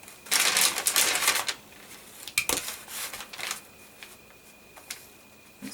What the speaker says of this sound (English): So I'm going to go ahead and cut this half here.